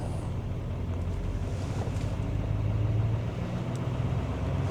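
A 2017 Duramax L5P diesel pickup revs up during a service regen, producing a low, continuous rumble that swells slightly partway through, heard close with some wind-like noise on the microphone.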